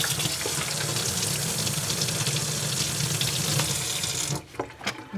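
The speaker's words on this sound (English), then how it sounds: "I'm gonna go clean off my brush" Tap water runs steadily into a sink while a paintbrush is rinsed, a loud continuous splashing rush for about four seconds before cutting off into a few faint drips and clatters.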